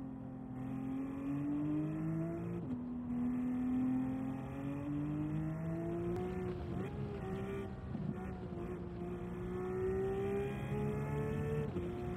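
Porsche GT3 RS engine in a racing video game at Laguna Seca, a sustained loud drone that rises and falls through gear changes and revs across the lap, with no one talking.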